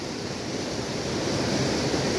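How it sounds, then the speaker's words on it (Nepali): Swollen Khadu river in the monsoon, running high after days of heavy rain, rushing in a steady, dense roar of water close by with no voices. "यो खाडु खोलाको बर्खायाम सुरु भएसँगै अविरल भारी वर्षाका कारणले गर्दा यति बेला यो खोलाको पानीको बहाव बढेको छ"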